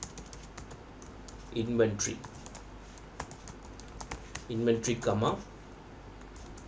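Quick, light clicks of typing on a computer keyboard during spreadsheet data entry, tapping in scattered bursts while someone speaks quietly over them at two points.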